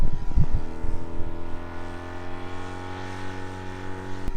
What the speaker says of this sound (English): Somehow, Williams finally made the motor start and he went to test it.